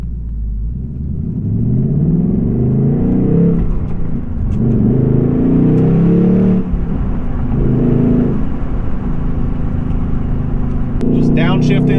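A 2024 Ford Mustang GT Premium with a six-speed manual rumbles loudly, revving up through the gears with repeated climbs and drops in engine pitch as it shifts and rev-matches on downshifts.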